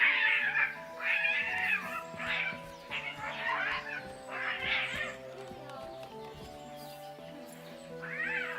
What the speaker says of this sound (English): Damn cats are going at it.